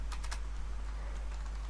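Typing on a computer keyboard while entering a name into Word, a quick burst of a few keystrokes early on followed by softer scattered taps over a constant low hum.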